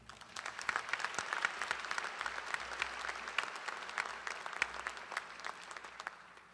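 An audience at a medical school white coat ceremony applauds to welcome a speaker, sustained dense clapping from a large crowd in a hall, steady throughout with no voices.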